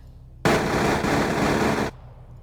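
A single continuous burst of very rapid M134 minigun fire in a video game, loud and roaring for about a second and a half, then cutting off abruptly.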